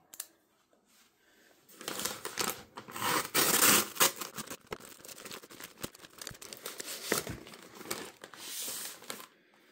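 Old-style 2019 Canadian IMP military ration pouch, Menu #10 smoked meat with demi-glace, being torn and crinkled open; loud close plastic crackling and ripping in repeated bursts after a quiet start, with no talk.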